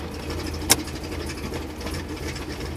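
A 1957 Chevrolet Bel Air restomod's engine runs steadily at idle, a close and continuous low rumble with one brief sharp click partway through, heard alone with no voices.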